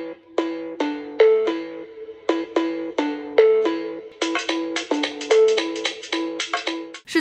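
A rugged three-proof budget smartphone plays a loud ringtone through its 3.5-watt, 112-decibel rear speaker: a bright, bell-like melody of quick repeated notes that runs steadily for about seven seconds with no voices.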